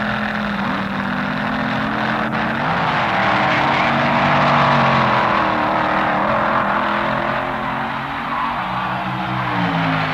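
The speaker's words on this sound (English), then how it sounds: "Jim Wofield running in the far lane in a Ford-powered dragster." At the 1967 NHRA US Nationals, Gene Snow's Dodge Dart and Jim Wofield's Ford-powered dragster race in Super Eliminator, a loud, sustained drag-racing engine roar with rising and shifting pitch.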